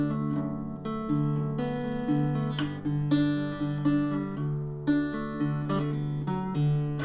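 Acoustic guitar playing the outro of a song, a steady strummed chord pattern with picked accents and hammer-ons, moderately quiet and close, alone without any voice.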